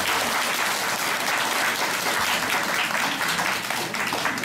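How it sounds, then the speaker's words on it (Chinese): Audience giving warm applause at the end of a literature lecture in Taipei, dense steady clapping from a room full of listeners, sustained and moderately loud. "那我们再次热烈的掌声"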